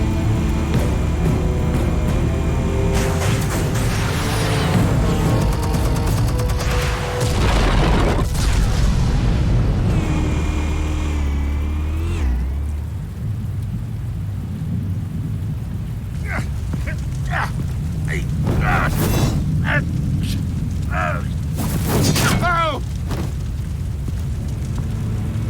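Explosives detonate in a Batman game, heavy rumbling booms and a roaring blast through the first half, then a quieter stretch with scattered sharp bursts and crashes, and music runs underneath.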